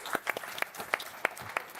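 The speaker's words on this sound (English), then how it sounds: "round of applause" Sparse, quiet clapping at a live developer conference stream, a handful of distinct claps in an uneven rhythm, faint and somewhat distant, as a small group applauds an award.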